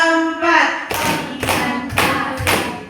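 Rhythmic group hand clapping in a classroom, several sharp broadband claps in an even beat following a brief spoken voice, fairly close and loud.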